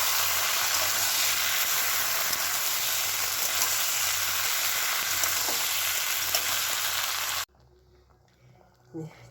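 Chili chicken sizzles loudly in a hot pan as vinegar, soy sauce and tomato sauce are stirred in, a steady broadband frying hiss lasting most of the stretch, then cutting off to a quiet room with a few soft clinks.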